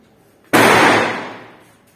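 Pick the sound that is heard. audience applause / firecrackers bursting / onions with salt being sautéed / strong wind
firecrackers bursting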